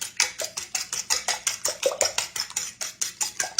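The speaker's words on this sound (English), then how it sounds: "so I've got 4 large eggs, and you beat it up really good" Four large eggs get beaten in a bowl for custard pie, with quick, regular clinks of utensil against the dish, about four or five strokes a second, close up and with no talking.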